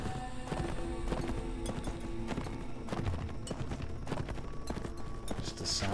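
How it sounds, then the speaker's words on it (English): Horses gallop in the medieval combat video game Mount and Blade, with steady hoof clip-clop running under dense battle noise and music. "Just the sound of horses and creepy-ass music."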